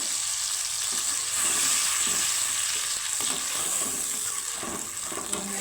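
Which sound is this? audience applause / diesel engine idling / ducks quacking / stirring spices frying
stirring spices frying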